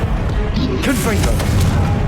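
Hogwarts Legacy's Confringo blasting spell bursts in a loud booming explosion on PS5, a rumbling blast with crackle, under a shouted voice.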